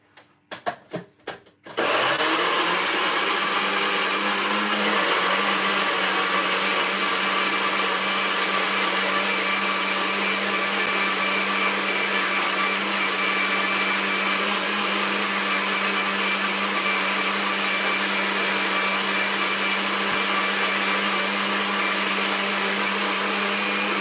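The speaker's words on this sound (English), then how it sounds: "let's blend up this and make some noise in the kitchen." A kitchen blender whirs loudly and steadily while blending a weight loss drink, starting after a few short clicks and bumps, then holding a constant high motor drone throughout.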